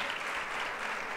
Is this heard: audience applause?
yes